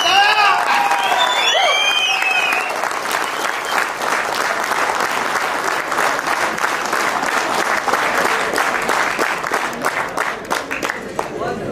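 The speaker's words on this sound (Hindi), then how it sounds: "पूरा हिंदुस्तान के लिए एक बार जोरदार ताली" Loud, sustained audience applause at a token launch event in Jaipur, dense clapping with some cheers and whoops, opening with a few bright whistles or shouts before settling into steady ovation.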